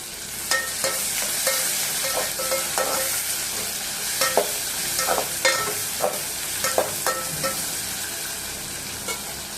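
Vadakari masala sautéing in oil in a pan, a loud continuous sizzle close up punctuated by regular scraping and tapping strokes of a spatula stirring through the mixture.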